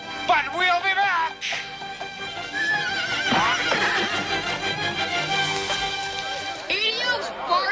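A horse in a scene from the film A Christmas Story neighs and whinnies several times over clip-clopping hooves, loud and close, with shouting voices and bustle mixed in.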